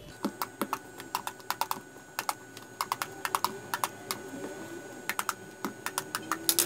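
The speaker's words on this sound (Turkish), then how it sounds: "Evet, birkaç kere deldik patlıcanlarımızı." Whole eggplants are pierced several times before roasting, giving crisp, close tapping clicks in quick uneven bursts with short pauses between them, alone and without talk.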